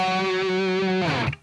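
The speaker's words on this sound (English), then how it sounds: "we're just going to chug palm mute a couple times on the low string" Distorted electric guitar chugs palm-muted on the low string, a dense buzzing riff with steady repeated attacks for about a second before the sound drops off and rings out.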